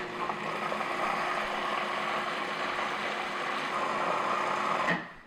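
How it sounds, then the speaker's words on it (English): Food processor whirring steadily as it blends popover batter, a continuous motor drone lasting about five seconds before cutting off with a small clunk near the end. "all I'm going to do is process this for about a minute"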